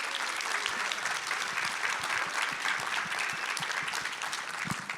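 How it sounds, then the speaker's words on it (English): Audience applause for a panel at a health and wellness luncheon, a dense steady clatter of many hands clapping together that holds for several seconds before easing slightly at the end. "Can we give our panelists a round of applause?"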